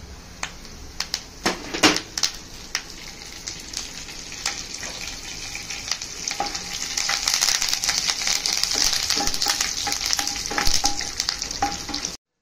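Curry leaves, dried red chillies and cumin seeds fry in about two spoons of hot oil, a steady crackling sizzle with sharp pops and spatters, growing denser and louder midway, with no voices.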